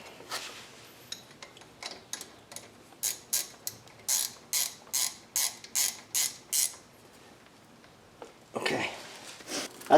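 A ratcheting wrench snugs up the 12 mm front brake bolts on a 2005 Buick Rendezvous. It gives a run of close, evenly spaced clicking pulls, slow at first and then quicker, with a brief metallic clatter near the end.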